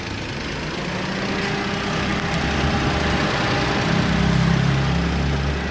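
A Toyota Wigo engine idles steadily after a misfire repair on faulty injector sockets, a continuous even low hum close to the microphone with a slight rise in rumble near the end.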